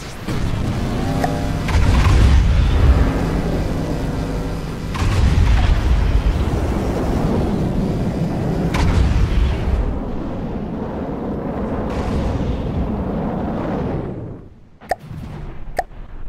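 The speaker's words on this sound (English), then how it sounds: "Now we're going to actually finish destroying this village." Heavy explosions tear through a village in the From the Depths combat game, a near-continuous roar of overlapping booms and rumbling blasts that swells and fades, ending in a few sharp sparse impacts.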